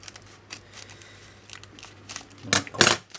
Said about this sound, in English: is it possible for me to use the scissors to cut all the packs at once?